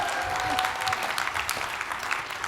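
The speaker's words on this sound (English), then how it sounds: "So you can applaud that" Graduation audience applauding in a large hall at Columbia University Law School, a dense, steady wash of clapping from many hands that holds even throughout without any talking.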